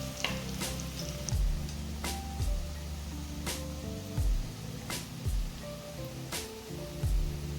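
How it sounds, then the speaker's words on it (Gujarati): Kothimbir vadi, coriander fritters, shallow frying in oil: a close, constant sizzle broken by several regular turning and scraping strokes in the pan, with no speech. "બધી બાજુથી બ્રાઉન થાય ત્યાં સુધી આપણે તેને તળી લેવાની છે."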